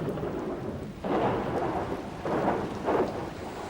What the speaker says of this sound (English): The storms are over quickly